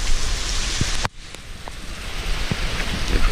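Heavy rain pours during Hurricane Irma in Orlando, a dense, loud, steady hiss of drops on surfaces up close that briefly drops away after a sharp cut, then returns with scattered louder splats.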